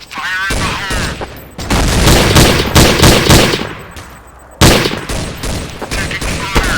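Gunfire in Counter-Strike: Source on the Assault map, loud bursts of rapid shots in clusters with short pauses, one sharp louder volley midway, and brief game voice chatter at the start.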